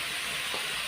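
Ghee hitting the hot tarka pan, a brief dense hiss of sizzling fat, close and steady.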